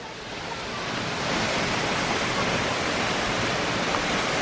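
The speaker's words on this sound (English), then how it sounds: "so we are close to this super cool waterfall" A waterfall heard from close by roars as a loud, steady broadband rush of water that swells slightly in the first second and then holds constant, with no voices.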